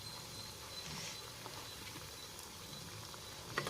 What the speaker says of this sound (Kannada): ಇನ್ನೊಂದು 2 ರಿಂದ 3 ನಿಮಿಷ ಫ್ರೈ ಮಾಡ್ಕೊಳ್ಳೋಣ್ರಿ